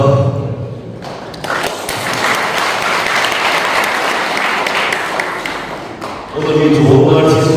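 Crowd at a Korean autobiography book launch applauds warmly as a guest is welcomed, a swell of steady clapping in the middle, with a voice speaking before and after.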